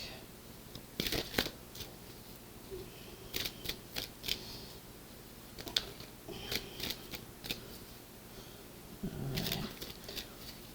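Tarot cards being shuffled by hand for a reading, producing repeated crisp riffling and slapping bursts at close range, irregular and fairly soft, with a heavier thump near the end and no talking.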